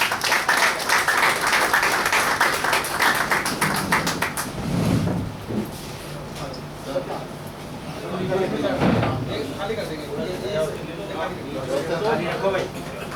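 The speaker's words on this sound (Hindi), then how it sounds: "आप ताली बजा करके इसका जो है स्वागत करें" A ceremony audience claps to welcome four colleagues, dense applause filling the room, fading briefly and then rising again, with a voice talking over parts of it.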